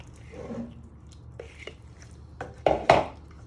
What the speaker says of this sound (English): You want to give them a little stir in so they get coated in your sauce.